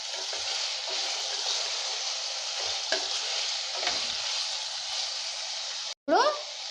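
Food sizzles and fries steadily in a pressure cooker while aloo rice is prepared, a continuous close crackle with a brief stir and clatter near the end.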